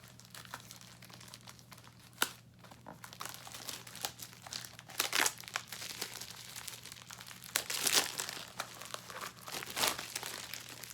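Plastic packaging of women's pillow-style barefoot slippers crinkles and crumples up close as it is opened, with sharp tearing bursts over a faint steady hum.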